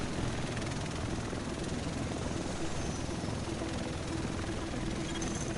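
Helicopter in the video game Tom Clancy's The Division, a steady loud rotor and engine drone held throughout with no gaps, carrying on under faint background noise.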